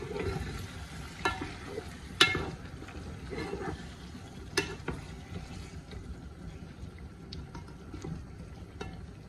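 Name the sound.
tomatoes added to spices frying in a pan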